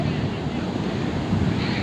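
Sea waves at Paradip port, a continuous broad wash of surf mixed with blustery wind noise, steady and close for a short stretch.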